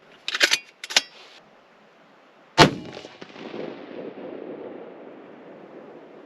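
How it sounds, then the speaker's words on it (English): Rifle firing at a 100-yard target on a range: a few metallic clinks and handling clicks at first, then one sharp loud shot followed by a long rumbling decay, with no voices. "And we'll be shooting at the top center target."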